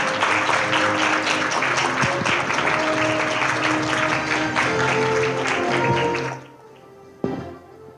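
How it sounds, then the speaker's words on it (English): Audience at an open parliament forum closing session in Taiwan applauding warmly, a dense sustained clatter of clapping for about six seconds that cuts off abruptly, followed by quiet and a single thump. "give Secretary General a warm round of applause"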